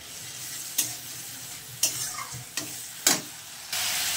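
Onion, garlic and ginger paste frying in a pan for a spicy crab curry, with a quiet steady sizzle broken by several sharp stirring scrapes and clinks of a spatula, no voices.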